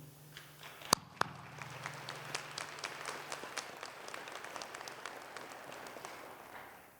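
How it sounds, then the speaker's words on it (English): Scattered audience applause at a winter college commencement ceremony, with a couple of sharp knocks near the start, then light, moderately distant clapping that slowly thins out. "Please join me in applauding their work."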